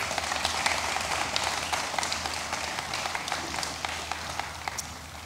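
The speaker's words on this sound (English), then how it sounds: "Hand of applause, please." Applause from the audience at the 2022 Seeds of Strength awards ceremony, a steady, moderately distant patter of many hands clapping that carries on evenly for several seconds.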